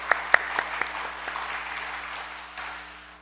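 A church congregation claps for the offering choir during a Korean worship service, a few sharp claps giving way to a steady wash of applause that slowly fades, with no voices over it.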